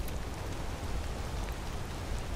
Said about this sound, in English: it is very rainy